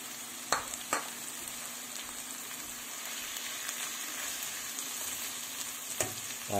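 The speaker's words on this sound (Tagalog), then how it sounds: "Guys, lagay ko na yung corned beef." Corned beef hits a hot pot of potatoes with a steady, close sizzle and frying crackle that runs throughout, broken by a few sharp clinks of a utensil against the pot.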